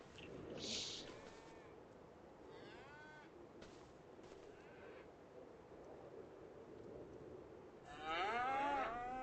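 Holstein milk cows low in a barn with a milking robot in Farming Simulator 25. Several moos rise over a steady ambient bed, with scattered calls early on and one loud, close, drawn-out moo near the end.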